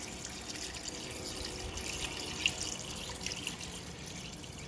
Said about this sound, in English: now I'm going to add some water